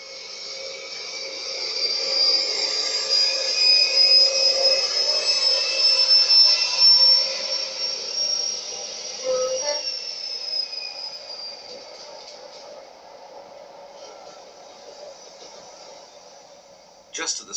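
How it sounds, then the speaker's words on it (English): An Intercity 125 passenger train runs between Edinburgh and Aberdeen in 1996, heard as a loud sustained rumble with high wheel squeal that slowly fades to a quieter roll, ending in a brief sharp clatter. "We now board an Intercity 125, two-thirds into its long journey from London to Aberdeen."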